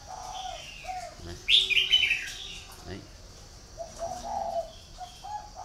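A red-whiskered bulbul used as a lure bird gives a bright, rising chirping call, loud and close for about a second, with softer bird notes scattered around it and someone talking briefly in Vietnamese.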